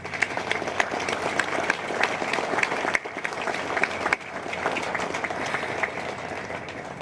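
A community crowd at an anniversary event applauds its first responders with sustained, dense clapping that stays steady from start to finish.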